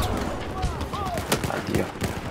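In the Battlefield 4 Singapore level, a grenade blast and surrounding gunfire crackle as sharp bursts over a steady battle rumble, with a player talking through the action.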